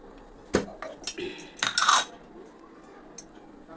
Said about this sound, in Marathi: बघा, आता मी छोले फोडणे घालते